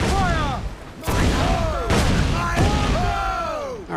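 Ship cannons fire in broadsides during a naval battle in Assassin's Creed 4 Black Flag, three or four loud booming volleys crackling one after another, with descending whistles of shot and crew shouts in the background.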